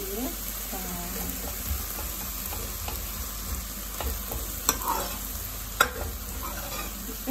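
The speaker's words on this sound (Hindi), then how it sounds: "मैं उसमें तड़का डाल देती हूँ" Tadka tempering of cumin and garlic sizzles in a pan for dal, a steady soft frying hiss with occasional sharp pops and stirring scrapes, joined by faint talk in the background.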